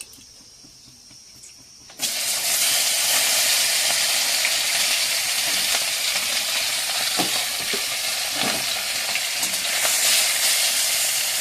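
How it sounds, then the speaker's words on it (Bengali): Fish rubbed with salt, turmeric and chili powder hits hot oil in a pan after two quiet seconds, then sizzles loudly and steadily close up, with faint stirring scrapes and no talk. "এবার মাছটাকে ভেজে নেব।"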